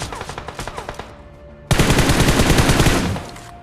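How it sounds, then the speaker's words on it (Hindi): Rapid gunfire in a first-person shooter match: a string of separate loud shots, then a dense, sustained automatic burst that fades at the end, with no speech. "रेंडमली मैं फायर कर देता हूँ।"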